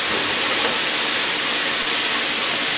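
Broth is poured into a hot pan where tuna is cooking and erupts in a loud, continuous steaming hiss that fills the whole moment without a break.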